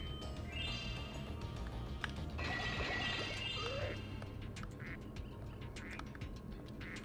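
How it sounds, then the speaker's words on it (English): A cartoonish duck in Spyro 2 quacks in a few distinct bursts over a steady in-game ambient music bed, with small chirpy effects scattered after. "It's a duck."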